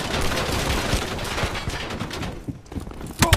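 Bursts of rapid gunfire from a Black Ops 4 match crackle close and loud, with a sustained volley tapering briefly before more sharp shots near the end.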